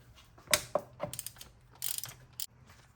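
Ratchet with a short socket loosening the front starter bolt on a V6 Camry Solara: a few quick, faint clicking strokes in a quiet space, with soft metallic handling noises between them.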